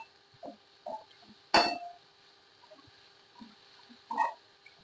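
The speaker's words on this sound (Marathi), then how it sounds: "मिक्स करून घेऊया आता सगळं सोडे कांदा" A spoon clinks and scrapes in a pan while chickpea greens are mixed with onion and dried prawns, giving a few soft knocks and one sharper metallic clink, close and fairly quiet.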